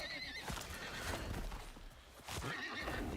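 A horse whinnies loudly and nearby in the survival game Icarus, two shrill neighs opening and closing the stretch, with clip-clop hoofbeats and game ambience filling the gap between them.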